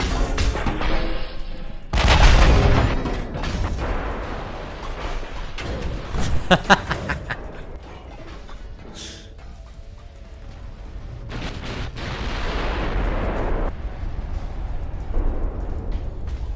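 Battleship guns fire in a naval video game, a burst of heavy booming salvos followed by scattered sharper blasts and mechanical clanks, loud and close, with some radio chatter.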